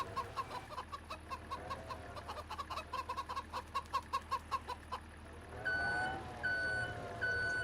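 A forklift gives a steady series of short reversing beeps on a farm, heard over clucking chickens, then a higher, evenly spaced beeping tone near the end, all moderately close with no talk.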